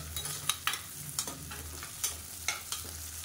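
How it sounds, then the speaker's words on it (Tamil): Small chillies sautéed with onions in a pan for a mutton or chicken curry, a soft steady sizzle with a series of rhythmic spatula scrapes, close and without talk. "இதையும் சேர்த்து நல்லா வதக்கி விட்டுக்கலாம்"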